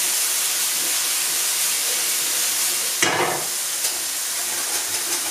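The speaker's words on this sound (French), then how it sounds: "Je mélange bien la moutarde dedans" Mustard being stirred into a bubbling cream sauce in a pan for pasta, a steady close sizzle and hiss throughout, with a brief louder burst of spitting partway through and faint scraping of the stir.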